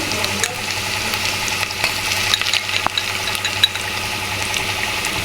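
Sliced onions with ginger garlic paste fry in a pan, giving a steady sizzle and a low hum with small scattered pops and clinks of stirring.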